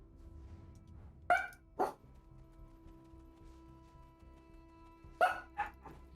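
A dog barks in two brief clusters of a couple of sharp barks each, separated by a quiet pause, sounding slightly distant in a room with low background hum.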